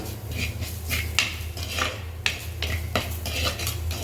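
Chicken masala being stirred in a pan with a metal spoon, sharp scraping and clinking strokes repeating at an irregular rhythm over a steady low hum from a stove or fan, with no talking.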